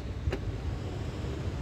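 A Hyundai Santa Fe's electric power tailgate starts to open with a short motorized whir and latch release near the start, then a low steady hum, fairly close, with no talking.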